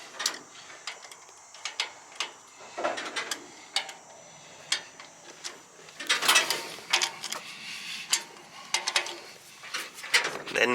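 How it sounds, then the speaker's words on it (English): Trailer wheel nuts are tightened in a diagonal pattern with a ratchet-style wrench, giving sharp, close mechanical clicks in uneven bursts with short pauses, fairly quiet overall. "we just need to tighten up these wheel nuts."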